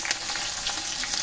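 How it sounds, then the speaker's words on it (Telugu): Onions and green chillies frying in tempering oil after the spices have crackled, giving a steady close sizzle with faint stirring clinks, alone without talk. "అవి 1 నిమిషం అలా గరిటెతో తిప్పి వేగనివ్వాలి."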